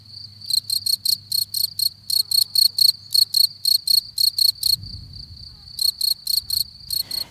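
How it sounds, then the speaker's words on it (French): A field cricket sings near the entrance of its burrow, producing loud, steady, high-pitched chirps in evenly spaced short pulses, with one brief pause before the rhythm resumes. "Celle-ci, c'est celle du grillon des champs."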